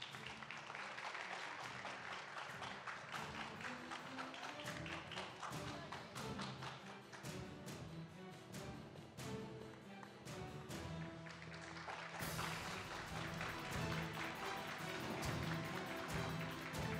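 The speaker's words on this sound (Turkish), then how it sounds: "Alkışlarla." An audience at a 2021 bridal fashion show at Çırağan claps under loud background music with a thumping beat, the applause scattered and partly masked, while the music swells near the end.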